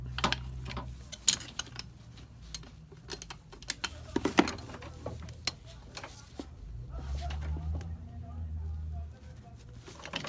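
A ratchet with a 17 mm socket snugs a bolt during clutch master cylinder replacement on an RSX, giving close, irregular clicking bursts mixed with handling clatter and a low hum, while someone talks quietly.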